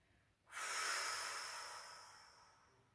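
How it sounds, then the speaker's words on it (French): A single forceful exhale, a loud breathy rush of air that starts abruptly and fades gradually over a couple of seconds. "Et soufflez bien fort en relâchant vos épaules."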